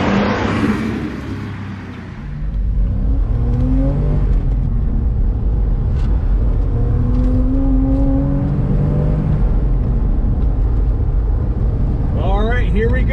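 A 1998 Porsche Boxster drives on back roads, its engine rising and falling through the gears with audible revs in a close interior perspective, under steady road rumble; someone talks over it.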